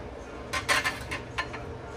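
A plate being picked up in the Alaska Lounge at JFK Terminal 7, a few light clinks and clatters of dishware close by over a steady room hum.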